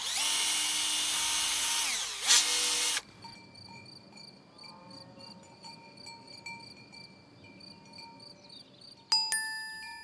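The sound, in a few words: drill boring a 5 mm hole to plant a seed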